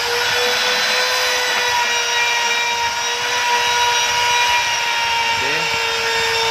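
A CNC router's spindle motor runs a job with a steady, loud high whine and a constant tone that holds throughout, plus a brief pitch wobble near the end.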